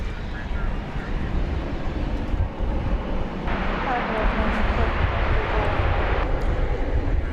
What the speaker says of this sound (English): That aircraft coming to us from San Diego.